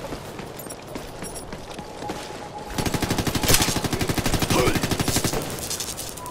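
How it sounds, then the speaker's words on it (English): Gunfire in the video game Ghost Recon Future Soldier: rapid automatic bursts crackle steadily, a dense machine-gun-like rattle that grows louder midway, heard fairly close. "While shooting."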